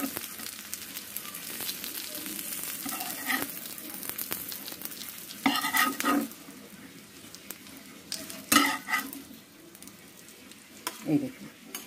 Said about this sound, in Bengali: এবার এইভাবেই পরেরগুলো এইভাবেই আমি ভেজে নেব।